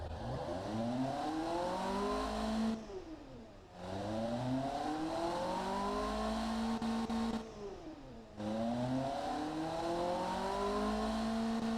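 A 1963 pony car engine fed by three single-barrel carburetors runs in the Automation game, revving up in long rising sweeps that fall back twice into brief quiet gaps, steady and close with no voices.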